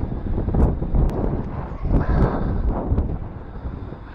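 Wind gusting by a river during trout fishing, a steady rough rumble of buffeting against the microphone, loud and close, with a few faint clicks over it.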